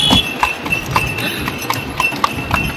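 Horse hooves clip-clop steadily from a horse-drawn carriage at Agra Fort, a regular rhythm of sharp, close strikes over light background noise.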